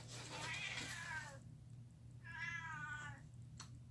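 A cat meows twice at home, two drawn-out, fairly close cries separated by a short pause, over a low steady hum with no talking.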